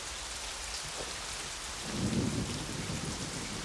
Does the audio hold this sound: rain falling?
yes